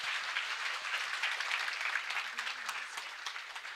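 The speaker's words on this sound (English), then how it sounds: "Can we please have a huge round of applause for Ameet Satam ji," Audience at a Union Budget 2026 address for Gen Z students breaks into sustained applause, a dense, even patter of many hands clapping at moderate distance, steady throughout with no speech.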